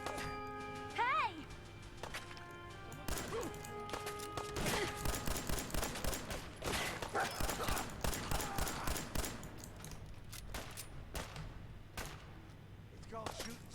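Game gunfire in Fallout 4 with the Fallout Equestria mod: a burst of rapid, sharp shots and clattering impacts fills most of the stretch, fairly loud and dense, with a voice talking over the start.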